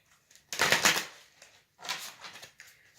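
Tarot cards being shuffled in two quick bursts, a dense papery riffle followed by a shorter second pass, close and clear with no talking.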